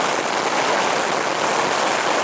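Heavy rain pours down in a dense, steady hiss without letup, loud and close, with no voices over it.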